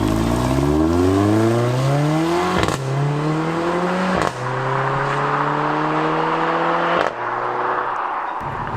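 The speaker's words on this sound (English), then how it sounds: "The exhaust does sound proper good." Mercedes A45 AMG exhaust on the move, a loud, rising engine note that climbs through several gear changes, each marked by a brief sharp crack or pop before the pitch drops and builds again.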